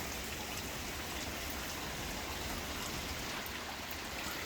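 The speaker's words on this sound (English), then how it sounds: "this is some of the hardest rain that we've gotten" Hard rain pours down continuously as a dense, even hiss with a steady roar of drumming drops, close and loud with no letup and no voices.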